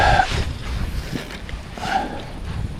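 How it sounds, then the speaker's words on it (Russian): Wind gusting over a river while fishing for chub and perch on the Moksha in Mordovia, a steady low rumbling buffet with swelling gusts, close to the microphone and alone without talk. "ветер очень сильно мешает"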